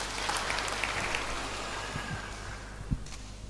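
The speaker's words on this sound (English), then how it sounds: "Give him a round of applause." A church congregation applauds in a steady wash of clapping that sounds somewhat distant and soft, with a few sharper knocks near the end.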